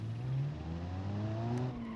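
A classic 1967 Citroën engine hums smoothly in the BeamNG driving game, a steady low drone with slowly rising pitch as the car accelerates, close and continuous with no talking.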